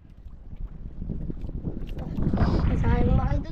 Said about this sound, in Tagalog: Grabing hangin mga kaidol.